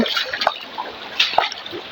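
Clear river water trickling and splashing over stones, soft and close with a few brighter droplet-like splashes in a quiet setting.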